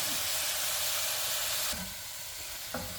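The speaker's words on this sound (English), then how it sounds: "now our meat is lightly sauteed, and now we're going to add our tomato paste and stir it" Tomato paste being stirred into lightly sautéed beef in a pot gives a soft, steady sizzle and hiss, with a couple of faint scraping stirs near the end.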